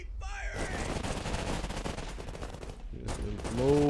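Rifle gunfire from a World War One video game, a dense burst of rapid overlapping shots that carries on without a break under a busy battle din, with a brief voice near the end.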